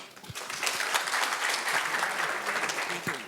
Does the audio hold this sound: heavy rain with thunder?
no